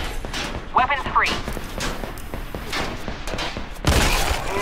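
Sniper rifle gunfire in the Sniper Fury video game, several heavy shots and booming impacts spread through the clip, with a final loud blast near the end, mixed under game voices speaking over the action.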